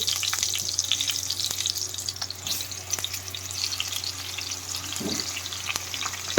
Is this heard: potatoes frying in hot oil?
yes